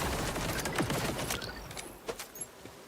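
AI gunners firing in a looting video game, a rapid crackling burst of gunfire that trails off into a few separate shots near the end, fairly loud and continuous at first.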